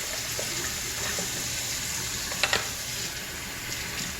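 Hot water runs steadily from a kitchen tap while a cutting board used for chopping vegetables is rinsed, a continuous close hiss with a couple of brief splashes midway.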